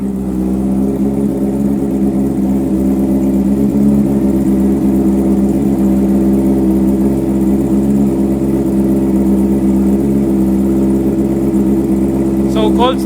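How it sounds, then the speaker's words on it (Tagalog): A Honda CB 650R motorcycle idles after a cold start, its exhaust a loud, steady, close low rumble with an even throb throughout and a brief rattle near the end. "So cold start niya guys"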